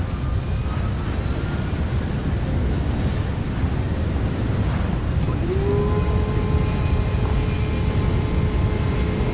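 Wind rushes loudly and steadily through an opened plane door in a video game, a continuous broadband roar with a faint engine-like drone rising partway through.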